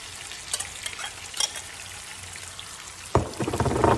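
Ackee goes into a hot frying pan for Jamaican ackee and bacon, with a faint crackle that breaks into a sudden, louder sizzle as the ackee lands and is stirred.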